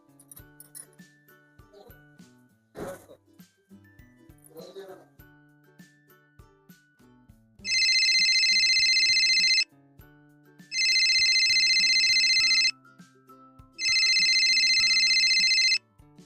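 A phone ringtone rings three times in long, loud, regular bursts with pauses between, during a call to the Tomato delivery app, after softer tapping and handling noises.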